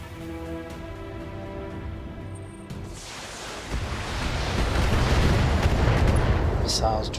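BattleTech mech combat, starting with a steady machine hum under faint voice. A roaring rush of missile fire then swells into a broad, sustained barrage that grows louder and stays dense until the end.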